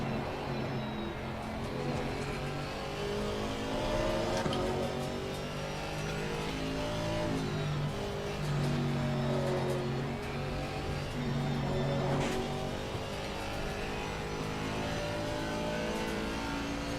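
Aston Martin GT4 race car in the ACR racing game at Kyalami, its engine droning steadily and loudly throughout with rising and falling revs as it accelerates and shifts, no talk over it.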